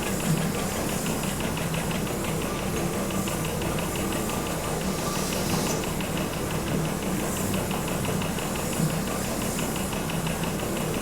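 A steam-powered vehicle in the train simulation game Train Fever runs with a continuous mechanical chugging and hissing drone, steady and moderately loud throughout with faint rhythmic knocking.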